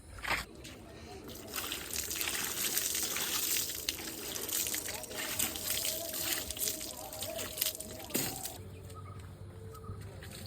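Water splashes and trickles steadily while a vehicle is washed in the sea, a continuous moderate wash of sloshing with faint chirps above it, and a low rumble shifting near the end.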